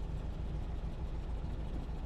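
A Porsche 356 engine idles in a smooth, continuous low rumble with a steady throb, close and moderately loud, with no speech over it.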